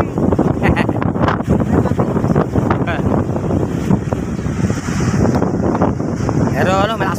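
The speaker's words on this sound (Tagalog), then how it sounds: "Pero malakas pa rin ang hangin." Strong typhoon wind gusts roar loudly and continuously across the microphone outdoors, with a steady heavy rush throughout and a brief pause in the downpour.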